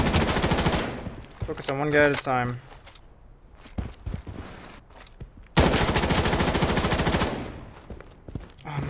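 Automatic M4A1 rifle fire in the shooter game Project BloodStrike, loud dense bursts at the start and again from the middle to the end, with someone talking in between.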